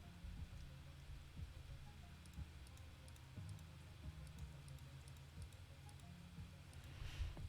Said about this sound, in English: isn't rain like so nice and relaxing?